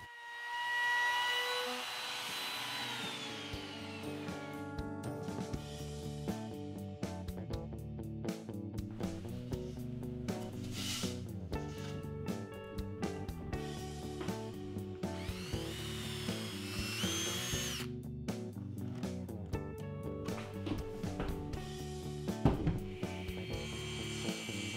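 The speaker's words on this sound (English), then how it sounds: "I'm using the router to put a slight round over at the top of the footboard and the headboard" A router rounds over the top edge of a walnut bed footboard and headboard, whining steadily at high pitch with shifting tone as it cuts, alone and close.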